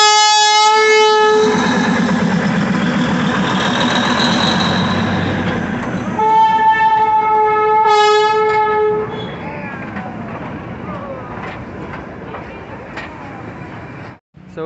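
A train at Ghum railway station near Darjeeling, the highest station, sounds long loud horn blasts, then a second shorter blast, followed by rolling clatter of wheels that fades; a voice speaks near the end.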